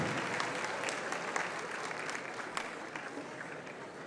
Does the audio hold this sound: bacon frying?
no